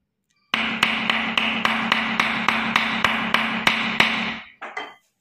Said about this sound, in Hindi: इसको इसके ऊपर रख के और हथौड़ी मार देते हैं